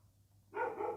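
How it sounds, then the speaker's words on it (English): A dog barks once, short and muffled, somewhere in the background of a quiet indoor room with low hum. "The dog is making noise."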